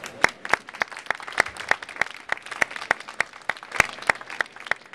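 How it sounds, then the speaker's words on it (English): A small group claps at a partnership agreement event at a biotech convention, giving sparse, distinct handclaps in a loose, fairly regular rhythm. "Let's give a hand of applause."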